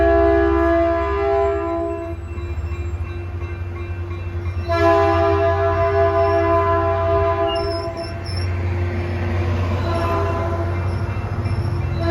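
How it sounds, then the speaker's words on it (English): Caltrain Bombardier rail cars roll past with a loud steady rumble while the horn sounds in two long, sustained blasts, the second starting about midway, over continuous rail noise. "we see these bombardier cars heading towards San Francisco"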